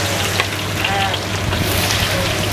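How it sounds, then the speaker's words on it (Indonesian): Sliced shallots and garlic fry in hot oil, giving a steady, close, crackling sizzle that runs the whole time with faint stirring and no voice over it. "sekarang bawang putih dan bawang merah yang udah kita iris langsung kita masukin ya"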